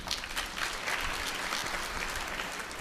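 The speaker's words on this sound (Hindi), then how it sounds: "ताली बजाने के लिए।" Soft, continuous clapping from an audience at a spiritual gathering with a guru, a steady, fairly quiet patter of many hands with no voices on top.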